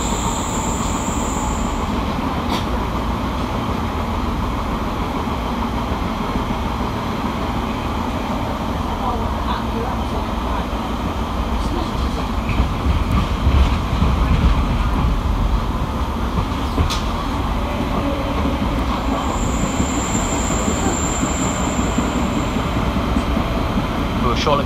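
Passenger train on the rail line from Lincoln to Sheffield, heard from on board as a loud, continuous rumble of wheels on track, with occasional faint squeaks and knocks throughout.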